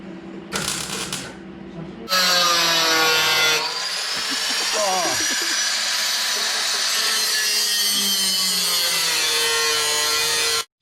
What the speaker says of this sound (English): Now that I am done cutting that little piece out